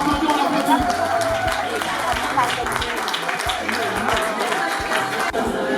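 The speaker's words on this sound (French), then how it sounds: "On applaudit." Guests clap continuously at a wedding ceremony in a French town hall, a dense, even patter of hands filling the room, with voices mixed in.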